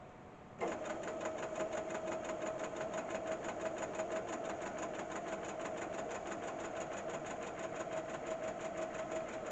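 A home sewing machine runs steadily, stitching a straight seam along a drawn line with the presser foot edge as a guide; the motor whirs in after a brief quiet start and keeps a fast, even, close-up hum for the rest.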